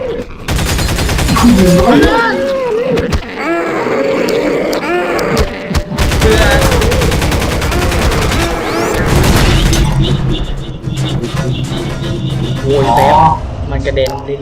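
Rapid, loud shotgun bursts and heavy booms in Garry's Mod, with shouting voices layered over the chaotic shooting throughout.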